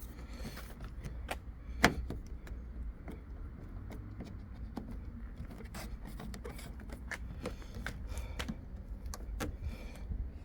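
Repeated small plastic clicks and snaps, with one sharper knock, as a Mini One R56 door trim panel is pushed back on, over a low background hum, close by.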